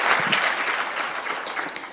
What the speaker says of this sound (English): Hand clap to Jesus.